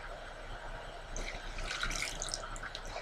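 Warm water pours gently into a Homedics Deluxe Bubble Bliss foot spa basin, a soft continuous splash and trickle that grows slightly louder midway, close and quiet with no talking.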